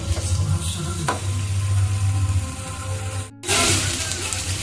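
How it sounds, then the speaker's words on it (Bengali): Boiled lentil water poured into a pan of frying kidney bean curry, a steady sizzle with stirring under it, then a brief near-silence followed by a loud burst of hissing bubbling. "দেখুন আমি দিয়ে দিচ্ছি এখানে যে ডাল সেদ্ধ জলটা আছে সেটা দিলাম"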